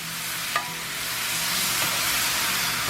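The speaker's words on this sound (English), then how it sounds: "My onions are cooking down. My mushrooms are cooking up." Onions and mushrooms fry in a pan with Worcestershire sauce, giving a steady, close hiss of sizzling throughout, with a single faint clink of a utensil early on.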